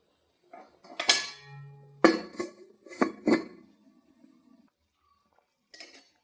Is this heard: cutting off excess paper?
no